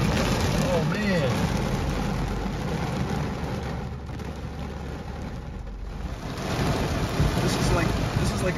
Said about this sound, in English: Look at that! What a downpour!